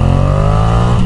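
Yamaha MT-07 motorcycle fitted with a ZARD full exhaust system, a loud, close, deep engine drone passing by at about 50 km/h in a set gear, steady and continuous.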